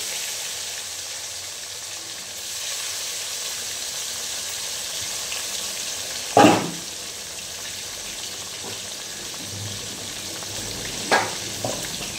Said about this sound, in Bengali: কি ভাজবো? মাছ ভাজবো।